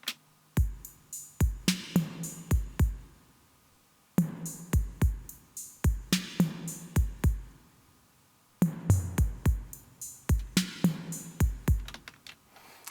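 A simple basic drum pattern from an arrangement plays dry without delay effects, with tight repeating groups of kick and percussive hits cycling three times, punchy and close with short gaps between phrases.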